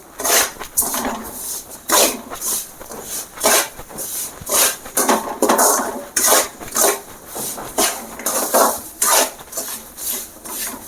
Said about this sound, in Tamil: ரவா வந்து நல்லா இதில் வந்து ரோஸ்ட் ஆகிட்டு இருக்குது